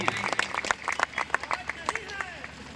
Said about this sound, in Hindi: जोरदार ताली बजा करके बता दीजिए नाराज नहीं है